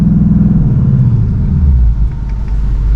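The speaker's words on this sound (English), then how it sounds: "If I go ahead, put it in first, and then just rev it, it'll hold it." A 2024 Ford Mustang GT V8 held on launch control, its engine revving loud and close with a steady, throbbing low rumble that eases slightly near the end.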